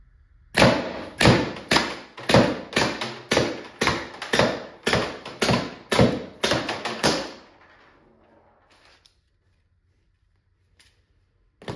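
A Tippmann TiPX paintball pistol on a 28g CO2 cartridge with a stock spool valve fires about fifteen sharp, loud shots in a fast, even string. The shots trail off into near silence, with no voices.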